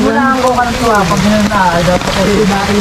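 Steady rain falls while out on a fishing boat, a constant hiss heard under a loud voice that talks through the whole moment.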